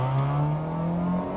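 An old VW Golf GTI accelerates at full throttle, its engine holding a strong, steady drone with a faintly rising pitch, close and loud, with no voices.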